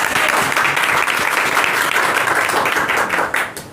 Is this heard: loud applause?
yes